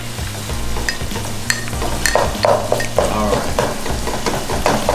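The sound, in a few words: beef and sauce being stirred in a hot pan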